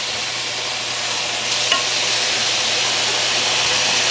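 Chicken pieces fry and sizzle in a hot pan with a steady, loud hiss, a brief clink partway through, and no talking.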